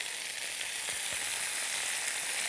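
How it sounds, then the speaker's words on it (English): Steady, bright sizzling of breadcrumb-coated pork frying in a pan, a continuous crackle close up with no talking. "There's the sizzle"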